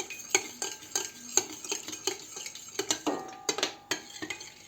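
A spoon stirs baking soda into soured milk in a bowl for a shashlik marinade, making rapid rhythmic clinks and scrapes against the bowl up close, with no talking.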